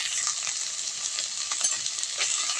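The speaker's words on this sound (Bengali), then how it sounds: "লবণ হলুদ দিয়ে মশলাটা আমি ভালো করে কষিয়ে নেব।" Spice paste for aloo dum, seasoned with salt and turmeric, fried and stirred in a pan; a steady, close bright sizzle with occasional scraping stirs, continuous and without talk.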